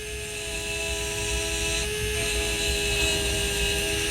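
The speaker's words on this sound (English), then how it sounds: "we're going to drag the burr" A steady, high-pitched dental burr whines continuously up close as it is dragged to cut a groove into a gold dental bridge during finishing.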